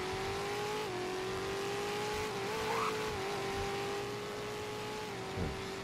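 A video game car engine races steadily at a car meet, a sustained loud drone holding a near-constant pitch with small dips, plus a brief tire squeal partway through.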